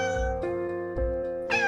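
Siamese cat meowing in a few drawn-out, tonal calls with bright harmonics, close and clear with no other sound around them.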